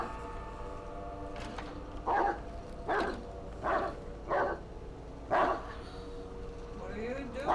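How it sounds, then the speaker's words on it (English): A dog barks in the Blair Witch video game, five sharp separate barks spaced a second or so apart at moderate loudness over a quiet, low ambient hum. "Why are you barking, Bullet?"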